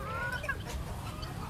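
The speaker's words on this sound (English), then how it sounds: "We call these the naked neck chicken." Naked neck chicken clucking close by, a short run of throaty clucks and calls with steady farmyard noise underneath and no talking.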